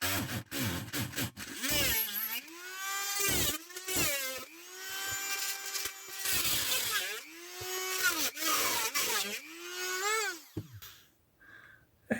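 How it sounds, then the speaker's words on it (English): A high-pitched power drill whines in several bursts while drilling into a rechargeable 60-LED light during disassembly, its pitch rising and falling as it bites, with short pauses between runs. "I'm going to drill them out"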